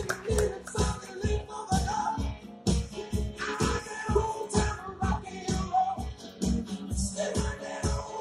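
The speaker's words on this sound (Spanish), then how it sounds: "Un aplauso para ellos, por favor." Audience applauding people on stage at a testimonial and ranks event, scattered hand claps coming in uneven bursts rather than a dense ovation, with some shuffling and occasional taps in between.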